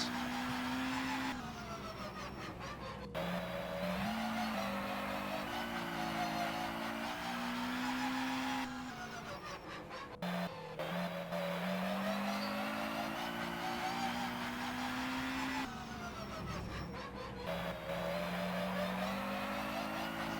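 A race car in a racing video game circles the Vauxhall Raceway, its engine holding a steady drone that rises and dips through gear changes and corners, loud and continuous across the whole lap with no voices.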